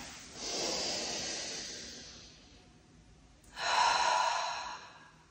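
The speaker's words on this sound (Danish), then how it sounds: "Og træk så vejret ind her." Two long, deep inhalations through the nose during a yoga exercise, close and soft, the second one louder and more forceful after a short pause.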